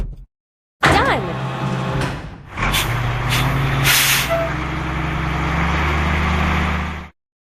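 Air brake hiss from a drop side truck in a video game, with a clunk followed by a long, steady hiss over a low engine rumble. The sound is loud and close and stops abruptly.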